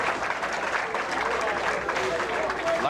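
Large crowd at a 1987 duckpin bowling tournament applauding a shot, dense sustained clapping under a commentator's voice.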